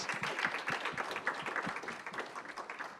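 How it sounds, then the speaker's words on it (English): A crowd applauds, many hands clapping in a dense, lively patter that stays steady throughout, with a faint voice or two mixed in. "let's give them a round of applause"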